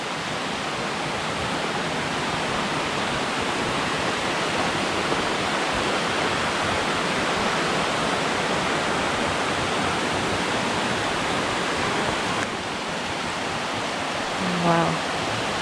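A river in a forest on the Graham and Coal Creek loop trail rushes with a loud, steady roar. The close, unbroken noise is punctuated by a brief voice near the end.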